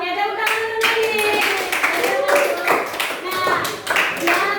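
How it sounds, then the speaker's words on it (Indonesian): A class of students claps for a classmate in an Indonesian school lesson, uneven rhythmic bursts of nearby hand clapping with children's voices talking over it. "Oke, tepuk tangan untuk Nadine."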